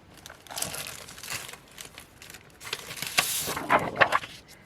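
Plastic sheet crinkled and folded over itself during a junk-journal craft session, a close, busy crackling that swells in bursts and grows louder toward the end, with no talking.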